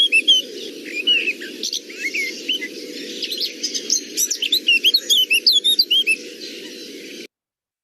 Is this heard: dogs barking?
no